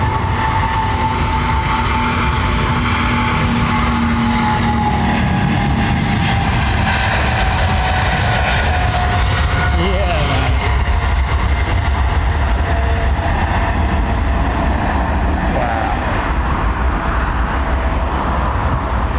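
A 200-series jet airliner with GE engines passes at London Heathrow Airport, a loud, continuous broadband roar close by that holds steady for the whole stretch, with no talk.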